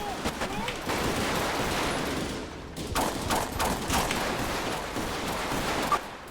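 Video-game gunfire in a 1990s-style GTA police roleplay: rapid bursts of shots crackle over a noisy mix, with sharp louder reports near the middle and end.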